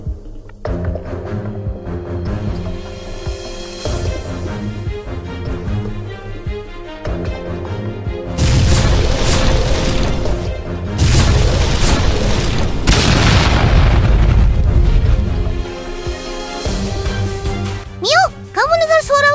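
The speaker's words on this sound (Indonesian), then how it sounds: "kamu dengar suara ledakan nggak?" Deep booming explosions in an animated drama, loud rumbling bursts arriving in a dense stretch midway through, with music and other scene sound throughout.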